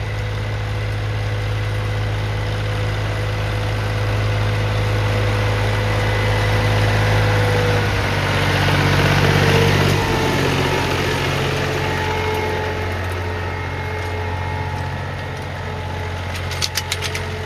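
A tractor engine idles steadily with a low, constant rumble, close by and unchanging, with a few faint clicks near the end, on a farm during wheat sowing.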